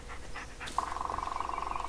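A dog pants rapidly in the Blair Witch video game, a quick rhythmic breathy series starting after a brief pause and continuing steadily, fairly faint.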